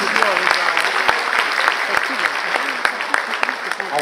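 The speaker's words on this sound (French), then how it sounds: "je veux qu'on applaudisse pour les femmes" An audience at a business and leadership conference in Paris applauds for the women, dense steady clapping with sharp individual claps standing out, and faint voices underneath.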